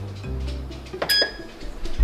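An air fryer being set to 400 degrees and started to heat a metal bearing in a kitchen, with a low hum, a few sharp control beeps mid-clip, then a faint clunk.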